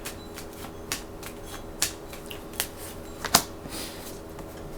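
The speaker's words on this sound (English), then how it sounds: "I'm going to shuffle these little cards right here." Small tarot cards being shuffled by hand, a steady soft riffling texture broken by several sharp snaps as cards slap together, close and fairly quiet with no talking.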